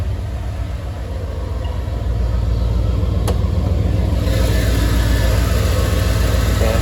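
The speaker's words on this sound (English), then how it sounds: "Stock exhaust on there sounds really good." A stock-exhaust 1988 Pontiac Trans Am GTA WS6 idles close by with a steady, deep low rumble that grows slightly louder partway through, with no talking.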